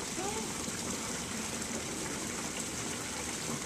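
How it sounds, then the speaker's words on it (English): A small backyard pond waterfall at night gives a steady, broad rush of falling water, close and constant, with faint talk beneath it. "We changed the waterfall in this corner around a little bit."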